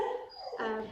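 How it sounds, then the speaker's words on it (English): A dog gives a short whining yip, faint in the background for about a second, without clear speech. "Sorry about my dog barking in the background."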